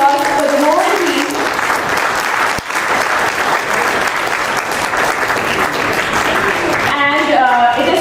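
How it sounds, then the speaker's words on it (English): Staff at a corporate launch event for Silkflex Polymers India give a long, loud round of applause, dense steady clapping filling the room, with brief voices or music at the start and end. "So huge round of applause for the whole team."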